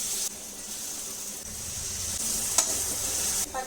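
Onions, peanuts and a spice paste with cumin, mustard seeds and curry leaves fry in oil for a bitter gourd curry, a steady close sizzle and hiss with occasional stirring scrapes, no talking.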